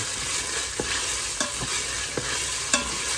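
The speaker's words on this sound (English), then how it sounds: "Just wanna stir this in" Arroz con gandules being stirred in a pot, with a steady low sizzle of cooking underneath and a few soft spoon scrapes and clicks against the pot at irregular intervals, close and moderate in loudness.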